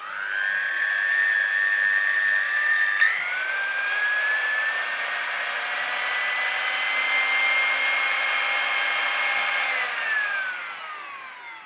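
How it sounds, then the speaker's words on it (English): Electric whisk beating Christmas cake batter, a loud steady motor whine that shifts pitch upward partway through and holds, then eases off near the end, with no talk. "if you lift the whisk up slightly, the mixture should just fly off"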